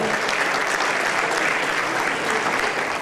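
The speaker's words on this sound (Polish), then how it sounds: "Brawa dla zawodników kategorii MX1." Applause for MX1 motocross riders at a Polish motocross cup event, a dense, steady crowd clapping that stays loud and even throughout.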